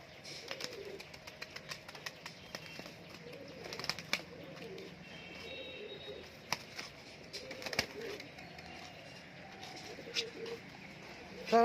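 Murshidabadi Giribaz pigeons coo softly at a distance behind a person talking, with scattered clicks and light rustling throughout.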